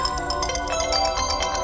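A phone ringtone rings out as a bright electronic melody of quick repeating tones, continuous and fairly close, with no talking over it.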